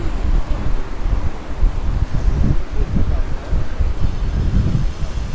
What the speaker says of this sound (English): It's probably just because it's too windy.